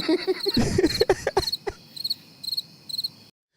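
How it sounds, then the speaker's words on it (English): Crickets chirp in quick, repeating high pulses, played as a comedic sound effect on a live podcast, with a few brief vocal noises at the start before the chirps trail off alone and cut to silence. "The cricket blowing by on a tumbleweed."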